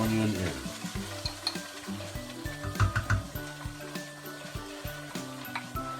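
A large batch of onion goes into a hot pan for a veal with cumin dish, setting off a steady crackling sizzle, with stirring clatter and scattered pops close by.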